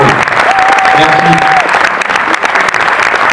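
A crowd claps in a dense, continuous burst of applause, loud and close, with a brief whistle-like tone rising over it.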